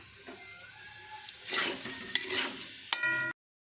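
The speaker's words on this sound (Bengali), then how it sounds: "এদিকে আমাদের হচ্ছে এখন আলু ভাজা" Potatoes fry in a pan with a soft sizzle while being stirred, the spatula scraping in bursts, with a couple of sharp metallic clinks before the sound cuts off abruptly.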